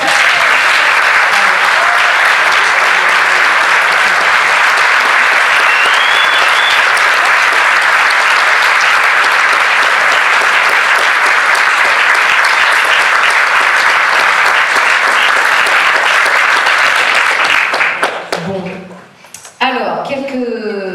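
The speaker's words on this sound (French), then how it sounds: "je crois qu'on peut encore les applaudir" Audience applauding student performers after a school play: loud, sustained clapping from a full room that holds steady for nearly twenty seconds, then thins out and breaks off near the end as a voice starts.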